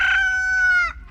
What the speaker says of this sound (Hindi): देखा आपने, मुर्गा भी अभी बांग दे रहा है